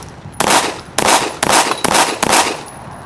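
Five sharp, loud shots from a Remington RM 380 pistol firing hollow point rounds, fired close by at a steady pace of about half a second between shots, each crack with a short ringing tail.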